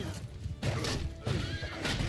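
Amid a video game cavalry battle, a horse neighs in loud bursts over dense crashing combat noise and thudding hooves, the whole scene close and chaotic.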